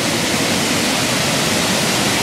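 Hooker Falls, a waterfall pouring into a pool in Dupont State Forest, roars as a steady, dense broadband rush that stays constant and close throughout, with no voices over it.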